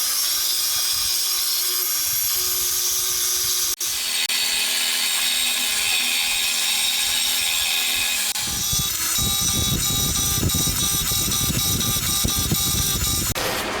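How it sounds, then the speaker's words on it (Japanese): A thin end mill cuts a homemade DOHC cylinder head for an FIM152 engine in light passes, giving a loud, steady metallic whine and grind. The tone shifts to a rougher, harsher cut partway through. "なので細身のエンドミルでちょっとずつ削っていきます。"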